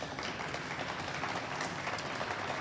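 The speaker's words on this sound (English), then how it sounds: "So please give him a round of applause." A crowd at a university advocacy day at the state Capitol gives a speaker a round of applause. The clapping is continuous and blended, soft and somewhat distant throughout.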